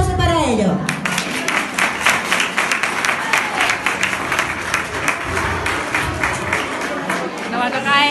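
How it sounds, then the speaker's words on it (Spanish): Crowd applause for a children's chirigota group at a school carnival event in La Higuera: dense, sustained clapping that lasts throughout, loud and close, with a little crowd chatter underneath. "Un aplauso para ellos."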